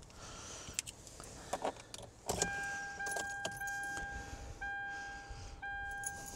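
A car running on a hybrid supercapacitor and lithium iron phosphate battery starts with a short burst of cranking, then idles under steady warning chimes, with keys jangling and interior shuffling close by.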